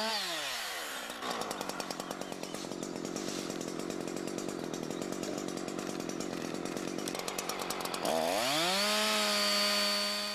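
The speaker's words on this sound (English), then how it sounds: "Then cut from above to meet the first cut." A Husqvarna chainsaw revs up and cuts into a tree trunk, its engine holding a loud, steady buzzing whine through the cut before easing back to idle, close and with no talking.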